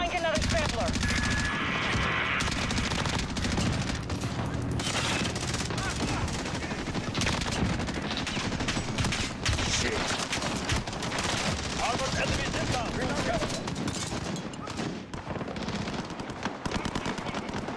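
A human voice imitating M4A1 and ACR rifle fire in Modern Warfare: loud, dense, rapid bursts of mouth-made gunfire that run almost without break, close to the microphone.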